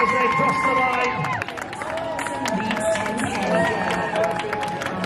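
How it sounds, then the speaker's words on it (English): Crowd cheering and clapping as runners cross the finish line at a Rhinos Reserves versus Giants Reserves rugby event in Leeds, a steady, continuous roar with whistles and voices mixed through it. "Let's have a real big cheer for BBC Radio Leeds"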